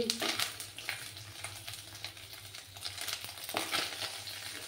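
Small mourola fish fry in hot oil with a bright, continuous sizzle and crackle. Bursts of spatter come through now and then along with some handling noise, and no one talks.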